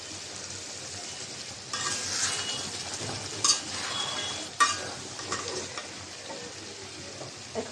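Chicken with drumsticks, potato, tomato and peas stir-fried in a pan, a soft sizzle under bursts of scraping and stirring, with a couple of sharp utensil knocks against the pan.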